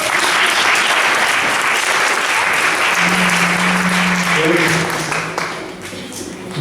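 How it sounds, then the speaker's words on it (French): Loud, sustained audience applause at a live stage talk fills the room, with a brief voice rising above it midway before the clapping thins out toward the end. "On les applaudit bien fort."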